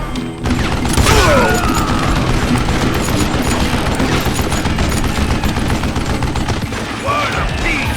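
Rapid gunfire in the Western shooter Call of Juarez: Gunslinger, with loud continuous volleys, crashes and explosions filling the whole stretch.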